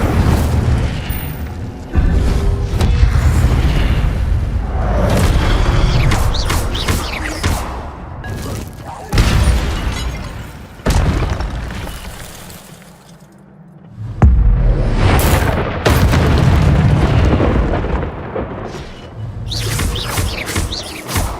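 Fire-spell blasts and rumbling booms from combat in the video game Hogwarts Legacy come in repeated loud, dense bursts, with brief quieter gaps and a deep low rumble throughout.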